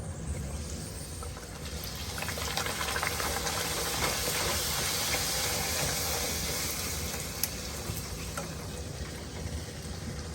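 Puri frying in hot oil gives a steady, bubbling sizzle that stays even and close for about ten seconds, with no talking.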